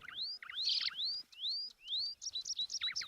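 Bird chirping: a series of quick, high, rising whistled chirps and tweets, fairly close and clear, repeated in short irregular bursts with no other sounds.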